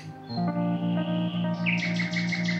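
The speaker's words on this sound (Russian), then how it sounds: "Соловьи." Nightingales sing near a forester's house, a bright, echoing run of repeated whistled notes and rapid chirping phrases, clear and close with no talk.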